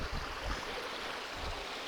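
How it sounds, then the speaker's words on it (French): A river flowing near a waterfall at night, a steady broadband rush of water, continuous and fairly close, with no voices. "traverse la rivière, on fait gaffe de ne pas tomber."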